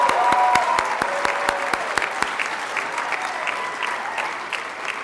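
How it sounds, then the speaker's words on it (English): Audience at a university communication department's December graduation ceremony bursts into loud, dense applause with a few sharp nearby claps, gradually thinning and fading over several seconds; no one speaks over it. "One more round of applause."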